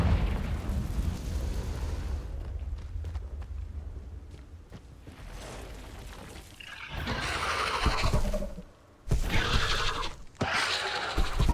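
Confringo fire spell explosions in the video game Hogwarts Legacy: a rumbling combat bed, then loud, bright crackling bursts erupt, cut off briefly and resume with sustained fiery blasts near the end.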